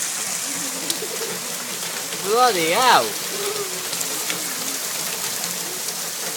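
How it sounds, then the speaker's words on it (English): Heavy summer rain pouring down outdoors during a thunderstorm, a constant dense hiss throughout, with someone shouting an exclamation over it midway. "it's pouring down with rain"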